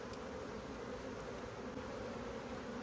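Honeybees in a nuc box keep up a steady, dense buzzing drone that stays even and unbroken throughout.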